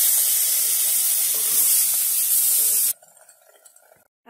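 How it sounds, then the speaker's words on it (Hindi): Paneer pieces frying in a kadhai give a loud, steady sizzling hiss for about three seconds, then it cuts off abruptly to quieter clatter and faint background noise. "अब मैं इसमें पनीर के टुकड़े डालती हूँ और इसे 1 मिनट तक फ्राई कर लेती हूँ।"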